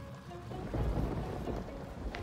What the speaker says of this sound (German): Es blitzt und donnert.